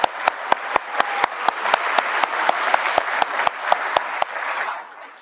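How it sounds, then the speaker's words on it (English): At a school induction ceremony, the audience applauds the new grade seven inductees with sustained clapping, and sharp, evenly spaced loud claps ring out above the general applause. "So let's give them a round of applause once again."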